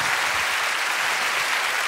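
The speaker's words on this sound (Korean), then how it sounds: "이럴 때 응원의 박수" Brief, dense audience applause at a live band talk session, a continuous full wash of clapping from a sizable crowd with no pause.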